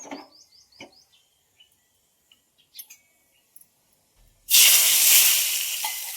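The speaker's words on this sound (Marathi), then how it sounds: "तर जिरे आणि थोडीशी हळद टाकली." Cumin seeds and a pinch of turmeric hit hot oil for a home chutney tempering, bursting into a loud, steady sizzle after a few quiet clicks and taps.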